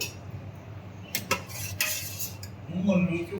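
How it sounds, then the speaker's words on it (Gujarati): A spoon mixes chickpea flour with another flour in a bowl, producing scraping strokes and light clinks of metal against the bowl, close and fairly soft. "એ બંને મિક્સ કરી દેવાનું છે"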